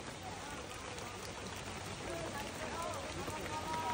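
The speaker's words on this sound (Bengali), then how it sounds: "প্রচুর বৃষ্টি পড়তেছে" Heavy rain pours steadily outdoors during a fishing trip, a dense broadband hiss of drops that holds level for four seconds and swells slightly toward the end, with no other clear sounds over it.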